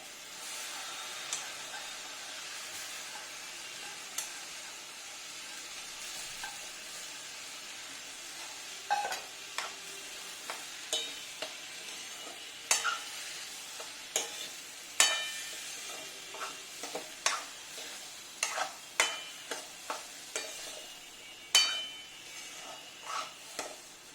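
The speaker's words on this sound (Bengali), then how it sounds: "ডালটা এর মধ্যে দিয়ে দিলাম দিয়ে একটু ভাজবো এবার চালটা দিয়ে দিলাম" Washed lentils and rice fry in a pan for bhuna khichuri, a soft, faint sizzle broken by sharp, irregular clicks and scrapes of stirring that grow more frequent toward the end.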